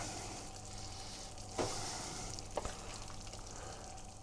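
A pasta bake mixture being stirred in a pan, a low sizzle under two sharp scrapes or knocks of the utensil, quiet and close with no talk.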